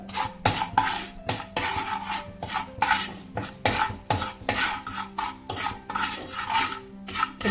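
A spoon scrapes and clinks against a pan while peanuts are stirred with chili powder, turmeric and salt, giving a rhythmic series of sharp metallic scrapes and taps, close and clear with no voices.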